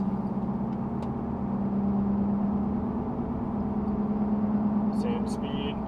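Steady low tire roar from inside a lifted Porsche Cayenne cruising at constant speed, fitted with balance beads, a continuous droning hum with a few faint electronic beeps near the end.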